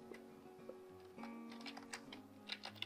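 Quiet typing on a computer keyboard while writing HTML code, with light irregular key clicks in short bursts over a steady low hum, no voice.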